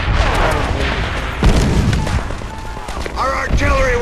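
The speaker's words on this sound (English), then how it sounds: "Our artillery will shake him up." Artillery fire in the war shooter Call of Duty: World at War, loud booming blasts and gunfire crackle over a continuous dense battle din, with a voice speaking over the explosions.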